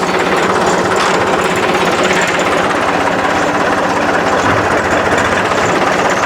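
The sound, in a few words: John Deere tractor engine running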